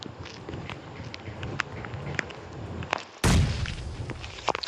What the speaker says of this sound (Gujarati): બોમ્બ ખેંચ્યો.